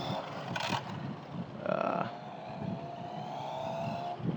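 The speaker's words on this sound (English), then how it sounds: "It's so funny it shifts gears. I'm gonna try to keep it close so we can hear it." A cheap twenty-dollar RC car drives close by, its small motor whining in rising pitch sweeps as it shifts gears, fairly faint under some background noise.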